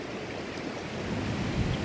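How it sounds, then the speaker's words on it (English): Strong wind gusts across an open lake, a constant rushing roar buffeting the microphone, with choppy water underneath, building slightly louder toward the end. "Look how windy it is."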